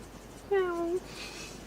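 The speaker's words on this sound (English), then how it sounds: "There's Lexi meowing at the door again" A cat gives a single clear meow at a door, a short rising-then-falling call heard fairly close in a quiet room.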